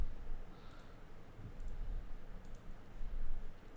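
Soft, faint clicks of a computer mouse, a few isolated taps spread across a quiet room hum.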